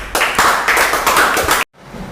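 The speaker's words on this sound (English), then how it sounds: "Clap everybody." Students at an English-speaking prize distribution clap together after a recitation, a loud, close burst of clapping lasting about a second and a half before stopping abruptly.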